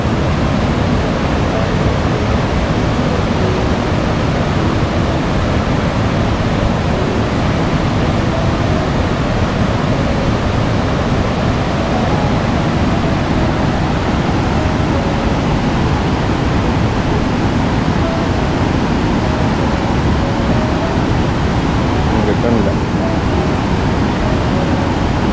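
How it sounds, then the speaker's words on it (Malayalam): Vazhachal waterfall in Kerala pours with a steady, dense roar, close and loud, its broadband rush unbroken from start to finish with no voices. "ഇതാണ് വെള്ളച്ചാട്ടം"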